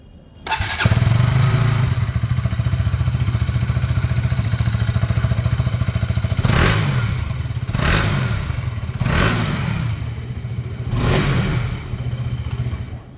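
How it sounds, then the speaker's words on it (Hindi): A KTM Duke 200 motorcycle with an underbelly exhaust starts and idles with a steady, close burbling thump, broken by several sharp throttle blips that rise and fall before settling back to idle. "सबसे पहले मैं आपको ड्यूक 200 की एग्जॉस्ट साउंड सुना देता हूँ"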